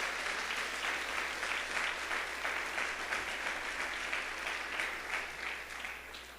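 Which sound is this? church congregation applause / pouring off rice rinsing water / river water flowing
church congregation applause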